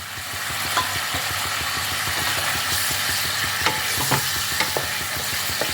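A spice mixture with green peas frying in a pan while being stirred, giving a continuous close sizzle with rhythmic scraping and occasional clicks of the spoon against the metal.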